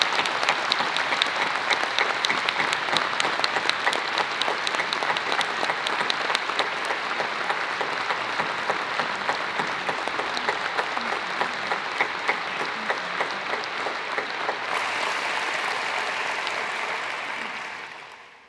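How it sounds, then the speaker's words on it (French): A crowd at a French political rally applauds a speaker at length: steady, thick clapping filling the hall, sustained for a long stretch before tapering off abruptly at the end. "Je vous demande de l'applaudir pour qu'il perçoive ces ondes positives."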